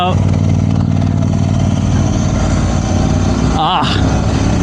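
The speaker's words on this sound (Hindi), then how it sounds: "यार ये कौन सी बाइक जा रही है आगे, मस्त लग रही है" Loud, steady motorcycle engine roar heard up close as it passes, with a brief revving surge near the end; no speech.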